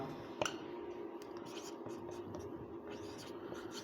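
A pen scratches steadily across paper as a math solution is written out by hand, faint and close with short strokes and pauses.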